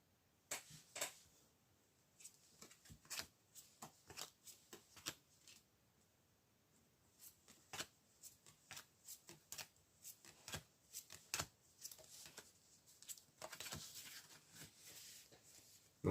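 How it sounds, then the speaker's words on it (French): Tarot cards are handled and drawn in a quiet room, giving a run of soft, crisp snaps and papery slaps that come in irregular bursts, some close and sharp, others lighter, with no voices. "On peut essayer de tirer des cartes sur les amis"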